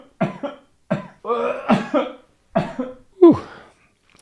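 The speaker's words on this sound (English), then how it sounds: "That's a real life example of how coughing kind of can just come on, and it's pretty painful." A person with throat cancer coughs painfully in a series of about six harsh, strained bursts, separated by short gasps and ending on a rough, throaty hack.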